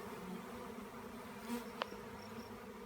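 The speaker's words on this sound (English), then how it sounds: "I just walked into the middle of a cloud of bees moving into one of my swarm traps at the house." A swarm of honey bees moves into a swarm trap at a house, a faint continuous buzzing drone of many bees in the open air, with no voices.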